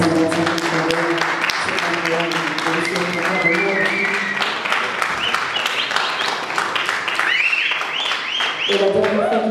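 An audience applauds a musician celebrating 55 years of career, sustained clapping under music and cheering voices throughout.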